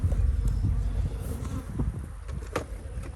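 Honey bees swarm and buzz densely around a hive while frames are moved between boxes outdoors, a loud continuous drone with individual insects whizzing close past, no talking.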